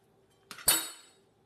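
A knife cuts down the middle of a lemon with one sharp tap, followed quickly by a louder crisp cut that rings briefly and fades, close and otherwise quiet.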